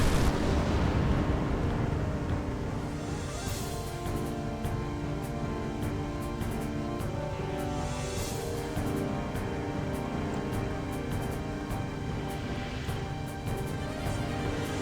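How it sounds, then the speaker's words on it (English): A dramatic explosion in Final Fantasy X that repeats itself about three times, a dense rumbling blast with crackling bursts rolling on continuously at moderate loudness. "The explosion repeat itself like 3 times."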